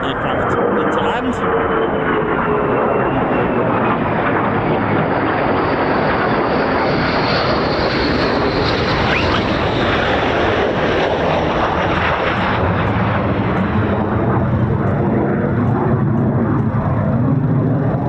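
A military fighter jet at RAF Lakenheath, home of the 48th Fighter Wing's F-15s and F-35s, makes a go-around: a loud, sustained jet roar swells and shifts as it passes, with wind buffeting the microphone and people talking over it.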